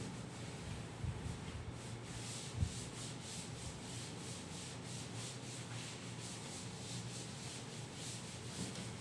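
A duster rubs writing off a classroom board in a maths class, making a quiet continuous scrubbing with rhythmic back-and-forth strokes and one small knock partway through.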